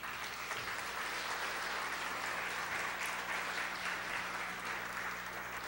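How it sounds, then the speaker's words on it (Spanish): A church congregation applauds continuously, a dense, steady wash of many hands clapping at moderate volume with no talk over it. "Dale un aplauso al Señor."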